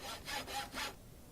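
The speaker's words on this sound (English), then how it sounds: "you get a funky little sawing sound as well" Three quick rasping saw strokes in a video game as a stone-bound reinforced pickaxe is crafted, each stroke a short wooden scrape, close and clear with no talking.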